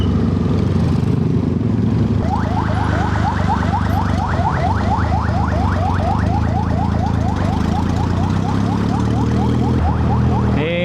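An ambulance siren wails in a rapid, repeating warble close ahead on the road, over the steady rumble of a Yamaha XS650 motorcycle engine following behind.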